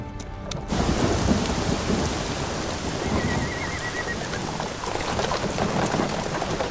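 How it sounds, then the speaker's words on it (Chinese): Steady heavy rain pours throughout a thunderstorm, with a broad rumble of thunder rolling in after a quiet opening moment and persisting loud and close, no voices present. "好像天色阴下来了，似乎要下雨。"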